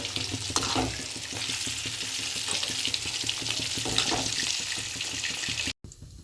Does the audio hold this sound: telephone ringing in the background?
no